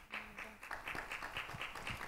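Audience at a cultural talk on displacement and the role of culture in communities claps in a brief, moderately close burst of applause, steady rapid patter with no voices over it.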